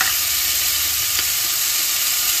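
Chopped onion fries in a hot pan with a dense, steady sizzle that stays loud and even throughout, close by and without talk.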